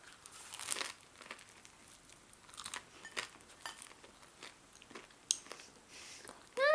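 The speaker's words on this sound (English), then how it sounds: "So now I'm gonna eat my hot warm bread" Warm homemade bread with butter being eaten up close: soft crunchy bites, chewing and some crinkling at a quiet level, with no talk.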